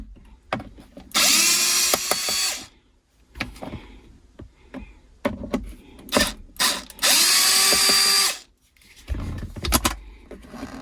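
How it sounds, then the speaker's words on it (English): A power drill whirs in several short bursts, two of them longer, as Phillips screws are backed out of a Land Rover Discovery interior panel, with clicks and handling noises between runs, close and without talk. "Just take those screws off and then the panel comes loose."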